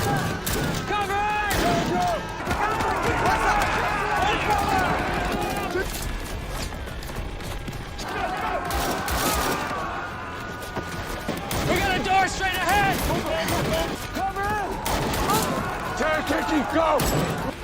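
Bursts of video game sniper-mission gunfire crackle repeatedly amid thuds and commotion, with voices shouting and talking throughout.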